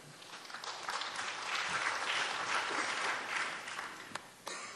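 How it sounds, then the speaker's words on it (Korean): Church audience giving encouraging applause as Pastor Hong Sun-won comes forward at a church forum, steady crowd clapping that builds, peaks in the middle and tapers off, with a sharp knock near the end. "우리 홍순원 목사님 또 나오실 때 격려 박수 부탁드립니다."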